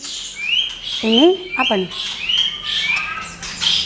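Songbirds chirp and whistle at a murai bird training school, several birds calling in short bright bursts throughout, close by, while someone speaks over them.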